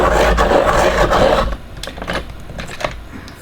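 A Chiltern F grade graphite pencil being sharpened, a loud close grinding rasp of blade on wood and graphite for about a second and a half, then quieter scraping and small knocks.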